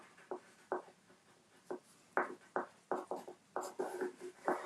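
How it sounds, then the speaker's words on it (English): Pen scratching across paper in short bursts, writing something down by hand at close range, with irregular strokes and pauses and no talking. "I'm going to write that down and check that out."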